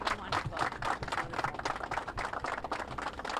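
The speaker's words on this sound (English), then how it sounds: "Let's have another round of applause." Audience applause at a live charity telethon for children's causes, a fairly quiet, steady patter of many hands clapping together with a slightly uneven rhythm.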